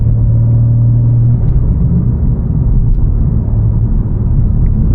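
A BMW G87 M2 with a crossover pipe and AWE exhaust gives a loud, steady low rumble from close by, holding a droning tone before settling into a rougher continuous growl, with no talking.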